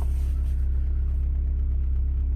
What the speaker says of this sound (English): This exhaust is actually really quiet in the cold start.